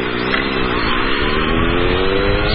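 A rider's loud, noisy motorcycle engine runs close by at steady high revs, a continuous rough roar with strong low harmonics throughout, with no talking.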